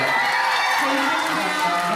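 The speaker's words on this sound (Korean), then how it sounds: "자, 다시 한 번 박수로 감사 인사 좀 부탁드릴게요" Film-festival audience at a stage greeting gives thanks with applause and cheering, a dense, loud wash of clapping and crowd noise with a few whoops running throughout.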